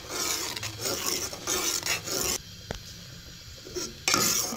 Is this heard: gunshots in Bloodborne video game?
no